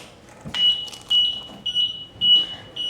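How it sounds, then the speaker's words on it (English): Buzzaround XL+ mobility scooter sounding a five-beep error code: a run of sharp, high electronic beeps in separate pulses, fairly close and clear over a quiet room. "my scooter is beeping at me. It's giving me a 5 beep code."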